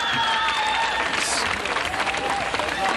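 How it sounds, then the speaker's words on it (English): A crowd applauds at the 1983 Turkey Shoot skateboarding contest at the Pipeline skatepark, a steady wash of clapping and murmur with a commentator's voice faintly over it. "applauding."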